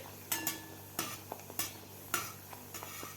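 Anarasa, a rice-flour sweet, fries one at a time in oil with a faint background sizzle, broken by several sharp close clinks and scrapes of a utensil against the pan at irregular intervals, no voices.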